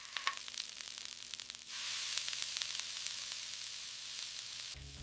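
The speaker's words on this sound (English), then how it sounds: "Sear the patties until deeply browned and juicy." Burger patties sear in a hot pan, giving a faint, steady crackling sizzle with scattered pops that thickens into a denser hiss partway through.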